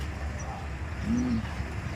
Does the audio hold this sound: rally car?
no